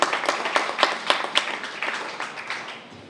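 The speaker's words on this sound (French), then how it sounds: "On applaudit la ministre de la Culture" An audience claps for the Minister of Culture at a National Library of Haiti celebration, a steady round of many hands with distinct sharp claps, tapering off toward the end.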